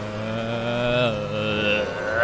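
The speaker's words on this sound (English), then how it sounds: "the only gripe I have with the Porsche is actually it just sounds so damn slow" Porsche race car engine in Assetto Corsa Competizione on the Nürburgring, a steady mid-pitched drone with clear harmonic tones that shift slightly as revs change, heard alone and fairly close.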